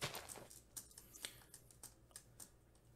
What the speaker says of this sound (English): I've got to buy a new keyboard because you could hear the littlest thing. That's just my spacebar.